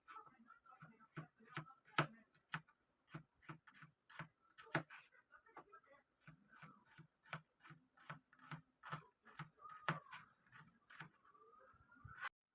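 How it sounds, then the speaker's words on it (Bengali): Thin slicing of peeled, washed onions with a kitchen knife for onion fritters, heard as a steady run of short, crisp knife chops on a cutting board, moderately close and fairly quiet, with no voices. "এবার একটা ছুরির সাহায্যে এই পেঁয়াজগুলোকে পাতলা পাতলা করে কেটে নেব।"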